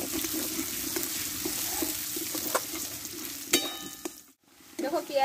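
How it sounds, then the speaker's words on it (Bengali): Onion fries in a pan with a steady sizzle and occasional stirring clatter, then drops to a brief silence before the frying noise resumes. "দিয়ে পেঁয়াজটা ভালোভাবে একটু লালচি করে একটু ভেজে নেব।"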